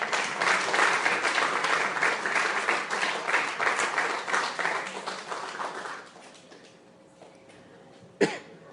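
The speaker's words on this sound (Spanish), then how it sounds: "Dele otro aplauso al Rey de Reyes." A church congregation gives a round of applause during a sermon: thick, energetic clapping for about six seconds that thins and dies away, followed by quiet and a single sharp cough.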